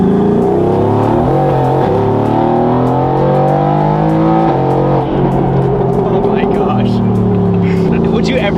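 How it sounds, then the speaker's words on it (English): A 900 hp Mercedes-AMG GT R with a bi-turbo V8 accelerates hard, its loud engine note climbing and dropping through gear changes close up, with voices faintly beneath it. "nothing is going to beat the sound of this engine with the bi-turbo V8"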